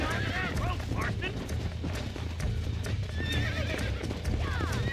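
In Red Dead Redemption, horse hooves clip-clop steadily, broken by several loud whinnies and neighs from a roped horse, with the steady bed of game sound underneath throughout.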